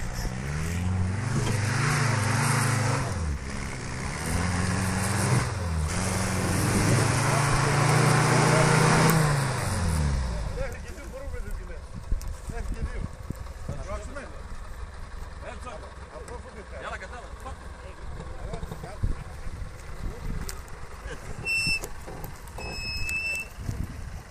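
Loud 4x4 off-road vehicle engines rev and whine during a race for several seconds with shifting pitch, then fade away, leaving quieter ambient noise with scattered faint sounds.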